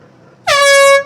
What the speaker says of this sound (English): Next sound you hear is a 3-minute gun.